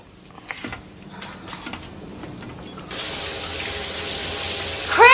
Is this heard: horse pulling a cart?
no